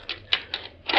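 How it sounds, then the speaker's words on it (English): Tabulating keys pressed on a laboratory computing machine's control board, a few quick clicking strikes in irregular rhythm ending in a louder rattling burst, close and alone. "Swiftly, efficiently, he presses tabulating keys on the control board"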